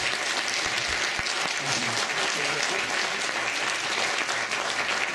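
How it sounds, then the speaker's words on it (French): An audience at a circus show applauds young performers, giving steady, loud clapping that fills the whole stretch without pause. "Encore des applaudissements pour les jeunes circassiens, s'il vous plaît."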